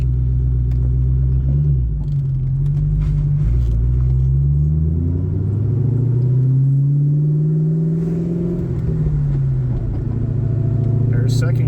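Steady, loud burbling rumble from a 2004 Mustang SVT Cobra with its 4-valve V8 while driving, the engine note rising and falling gently throughout.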